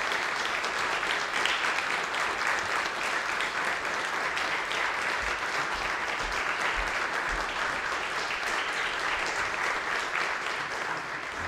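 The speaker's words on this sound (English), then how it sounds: "please welcome, with a nice warm applause, our student Jose Manuel Cruz" A live audience gives sustained, steady applause ahead of a student's piano recital, a dense even wash of clapping that holds at the same level throughout without any talk over it.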